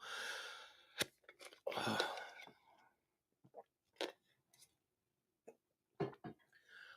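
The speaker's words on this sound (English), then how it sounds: "Sorry, I'm getting a bit of the hiccups now." A man gets the hiccups, with sharp, abrupt catches scattered irregularly between soft, breathy murmuring speech. The sound is close and fairly quiet.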